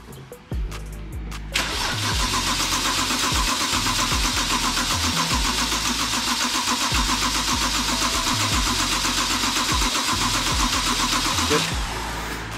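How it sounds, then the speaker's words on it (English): A BMW E92 335i with an N54 engine after an engine swap cranks briefly, then catches and settles into a loud, steady close-range idle with a rhythmic pulsing that runs until near the end, no talking. "Give it a second and then probably crank it again."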